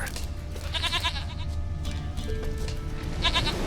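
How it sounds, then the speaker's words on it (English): Goat bleating in The Witcher 3 video game, several short wavering bleats near the start and another at the end, over a steady low game ambience. "Here, goat."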